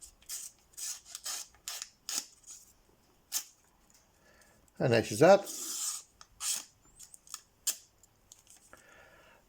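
A freshly sharpened Laguiole knife blade slices through flimsy receipt paper in a series of short, dry rasping swipes, quiet and close, with a brief spoken remark partway through.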